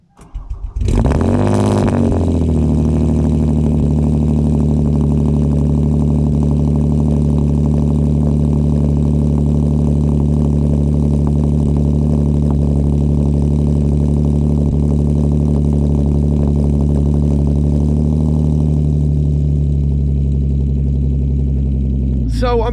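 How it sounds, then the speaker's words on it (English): A Hyundai Genesis Coupe engine cranks on a cold start and fires up with a brief rev, then settles into a steady, loud idle that continues for the rest of the clip. "Let's listen to a cold start now."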